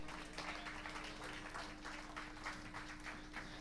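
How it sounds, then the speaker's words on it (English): A crowd applauds at a fishing tournament weigh-in for the champion: a steady, faint wash of clapping that continues evenly throughout with a constant low hum underneath. "Give them a big round of applause,"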